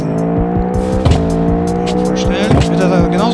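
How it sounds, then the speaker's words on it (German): A McLaren 650S supercar roars loud and close at sustained high revs toward a huge ramp, with a steady engine drone, brief tire squeals and surges near the start, middle and end. "Jetzt am Start McLaren 650S. Das ist auch ein super schneller Wagen."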